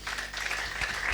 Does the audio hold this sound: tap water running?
no